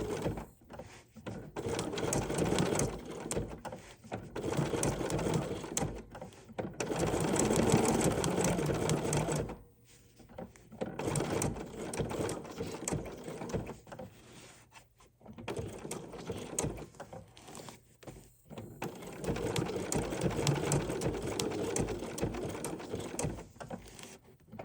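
A sewing machine stitches a collage appliqué holiday postcard in bursts of rapid mechanical whirring and clicking, stopping and restarting several times between slower, stitch-by-stitch pauses.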